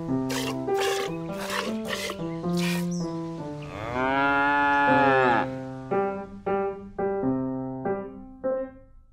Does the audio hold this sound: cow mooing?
yes